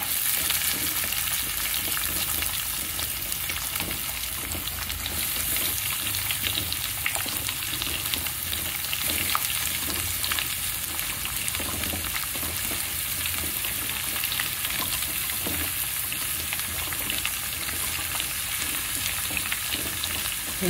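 Onions, with green chillies close behind, frying in hot oil in a pan for an egg curry, a steady loud sizzle with stirring scrapes running throughout, no voices.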